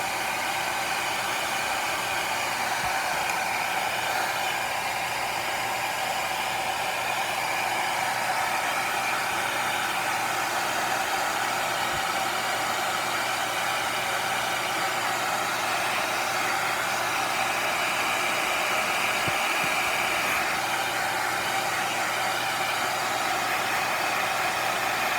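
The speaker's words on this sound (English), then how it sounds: "Now I'm going to dry it real quick to make sure that doesn't move on me." A hair dryer blows steadily to dry a fresh layer of paint, a constant loud whooshing hiss with an even motor hum that never changes across the whole stretch.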